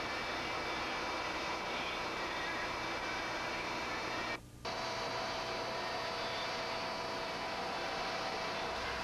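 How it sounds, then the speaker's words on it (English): A roll former machine shapes furnace cabinet panel blanks, forming the front and back edge flanges. It makes a loud, steady mechanical roar and hum that stops briefly midway, with a faint voice beneath. "As the blanks are fed through the roll former, the front and back edge flange is formed"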